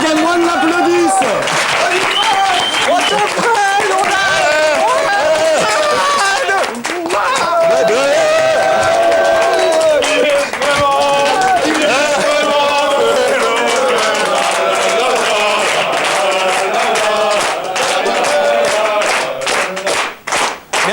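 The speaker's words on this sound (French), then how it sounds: "Alors du coup, les gens de Game One l'applaudissent." Studio audience of the Game One show applauds and cheers steadily, loud, dense clapping with whoops running throughout, fading briefly at the very end.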